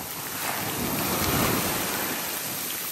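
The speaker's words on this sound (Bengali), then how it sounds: "প্রচুর বৃষ্টি হচ্ছে কিন্তু।" Heavy rain pours steadily at Jones Beach on Long Island, a dense, loud, continuous hiss with possible surf beneath, and no voices.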